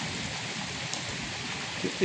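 Steady, dense hiss of heavy rain pouring down continuously in Punjab, with no pauses.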